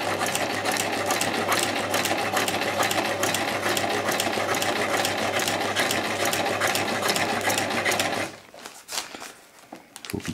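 A sewing machine stitches a reinforcement through fabric, running steadily and loudly at a fast continuous whir for about eight seconds before stopping, followed by faint handling noises.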